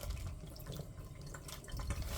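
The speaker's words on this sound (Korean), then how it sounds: "일단은 물기를 빼고" Water drains and drips from blanched food as it is squeezed over a sink, a soft close trickle and patter with uneven splashes.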